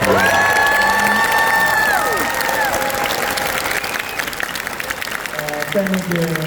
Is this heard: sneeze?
no